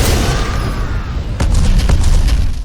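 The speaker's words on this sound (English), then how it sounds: "these guys will absolutely shoot" Enemy gunfire and booming blasts in the shooter game Black, a heavy low rumble with a few sharp cracks of shots layered in, loud and continuous with no talk.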